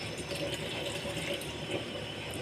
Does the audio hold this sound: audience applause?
no